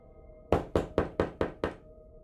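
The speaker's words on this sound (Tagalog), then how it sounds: "may narinig akong 3 katok sa pinto" Sharp knocks on a door at night, six evenly spaced raps in quick succession, close and crisp against a near-silent room.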